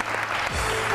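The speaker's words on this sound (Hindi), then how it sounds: "बहुत सारी तालियां इन लोगों के लिए।" A studio audience gives a burst of steady, close applause on a television show.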